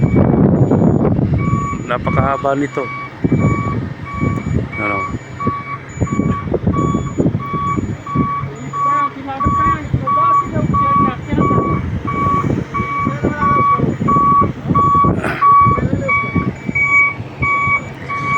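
Reversing beeps from a boom truck at a crane maintenance site repeat steadily and loudly through the whole stretch, with someone talking over them and engine rumble underneath.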